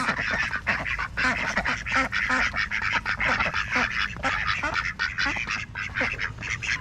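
Mallard ducks quack and honk in a dense, continuous chorus at a swampy feeding spot, loud and close, with overlapping calls throughout and no talking.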